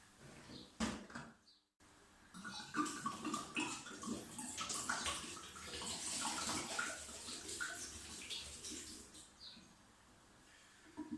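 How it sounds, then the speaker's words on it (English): Homemade mead poured into bottles in a home kitchen, a soft continuous trickle and splash of liquid with a few knocks and clinks of glass nearby, fairly quiet and without speech. "next thing is filling our bottles"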